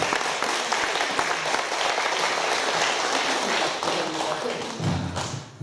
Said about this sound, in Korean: 여러분 박수로 감사를 해주셨으면 좋겠습니다.